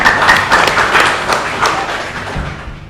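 An audience at a seminar on narcotics abuse breaks into a short burst of hand clapping, loud and dense at first and then thinning out over a few seconds.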